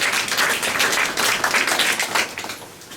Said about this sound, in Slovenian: Ampak vseeno aplavz, ne?